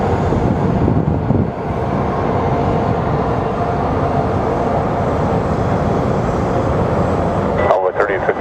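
A Contour Aviation airliner arriving at Sky Harbor airport, a loud continuous broadband jet rumble with a brief clatter near the end.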